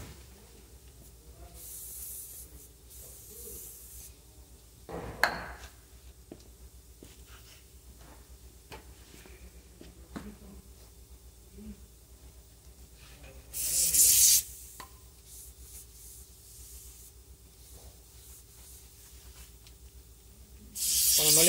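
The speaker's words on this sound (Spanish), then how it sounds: "es importante, antes de poner el plato, limpiar bien el rotor" Brake cleaner spraying onto a rear brake rotor of a 2016 Ford Transit during a pad and rotor job, with a short hissing burst early, another around the middle and a final one at the end, amid quiet workshop handling noises.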